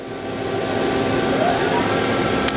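A 2010 Doosan Lynx 300 CNC lathe spindle runs at 500 RPM, a steady mechanical whir and hum holding constant and close throughout.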